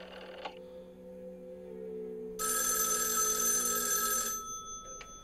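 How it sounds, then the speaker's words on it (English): A telephone bell rings in the 1974 horror film Black Christmas, a steady loud electric trill lasting about two seconds after a low hum and a brief click, with no talk over it. "Oh, that's the other phone"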